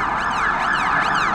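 London police car sirens wail close and loud in a continuous rising and falling sweep, with no voices heard over them.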